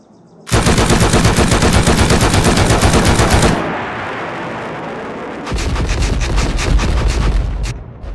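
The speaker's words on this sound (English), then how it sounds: "I love these mortar rounds." Mortar rounds fire in the video game Rust in a dense, roaring barrage. A long, loud stretch of rapid booms eases briefly, then a second burst of rapid thumping follows.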